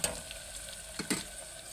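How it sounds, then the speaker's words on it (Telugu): Mutton frying in a pan for Telangana-style mutton curry, with a steady, close sizzle and a couple of brief stirring scrapes and knocks. "ఇంకా ఇలా వేగాలి. ఇలా అయితే వేయించుకోండి."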